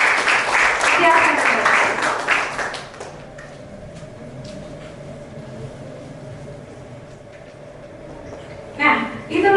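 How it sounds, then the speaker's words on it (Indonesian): A high school class applauds with dense clapping for a few seconds, then it fades to quiet classroom noise before a brief burst of sound near the end. "Boleh beri tepuk tangan untuk teman-teman yang sudah menyelesaikan"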